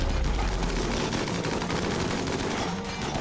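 Dense, continuous gunfire from the colony-simulation video game Rimworld, a steady crackling barrage of rapid shots filling the whole stretch with no let-up and no voices over it.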